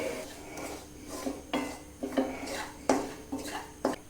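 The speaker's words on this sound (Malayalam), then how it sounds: "നല്ലപോലെ ഇളക്കി കൊടുക്കുക." Spatula scraping and clinking against a pan as pepper and turmeric powders are stirred for a beetroot stir-fry, a steady run of close scrapes and knocks.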